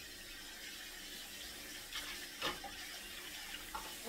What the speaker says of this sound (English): Since that was freshly made and I'm going to use the bowl, I'm just going to rinse it.